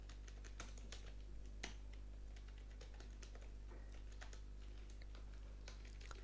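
Steady, rapid keystrokes patter on a computer keyboard while entering customer details into a spreadsheet invoice. The clicks are close but faint over a constant low electrical hum, with no voices.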